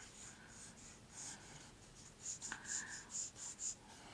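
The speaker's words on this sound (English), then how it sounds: "I'm just going to very lightly erase that detail back out again" A pencil portrait drawing is lightly erased, giving faint, quick rubbing strokes on paper in a quiet room.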